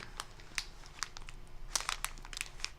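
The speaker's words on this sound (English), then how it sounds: "I'm going to take it out of the package, so I apologize for the crinkling noises." A plastic package crinkles and crackles as it is opened to take out a knitting item, in bursts of sharp rustling close to the microphone with no talk over it.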